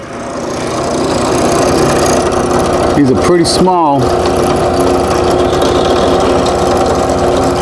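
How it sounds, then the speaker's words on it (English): A drill press drilling small holes in a carved-top guitar body runs with a steady motorized whine and buzz throughout, loud and close, while someone speaks briefly over it. "So let's go to the drill press and drill some holes."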